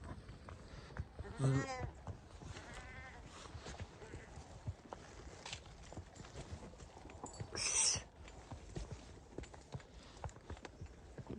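Sheep bleat a few times at close range, with a higher-pitched bleat later, over a busy background of shuffling hooves and farmyard noise.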